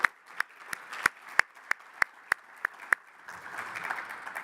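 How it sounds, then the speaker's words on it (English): A few loud, spaced claps ring out near at an annual business meeting, then a softer spread of audience applause builds toward the end. "with a round of applause for Andy, everybody"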